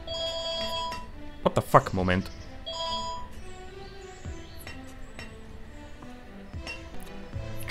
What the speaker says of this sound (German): habt ihr jetzt vermutlich gehört. Das war mein Telefon.